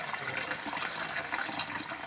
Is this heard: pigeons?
no